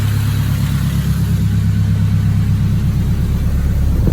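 A car engine runs steadily with a low, even rumble, close and loud, with no voices over it.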